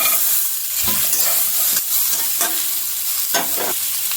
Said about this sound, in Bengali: এবার এই সবজিগুলো সব আমি দিয়ে দিলাম